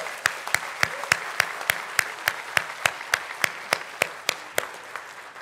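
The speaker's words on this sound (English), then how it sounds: "another round of applause" A ceremonial crowd applauds in a steady, rhythmic round of clapping at the opening of San Francisco's Pier 27 James R. Herman Cruise Terminal, with sharp regular claps standing out over the broader applause for several seconds, no talking.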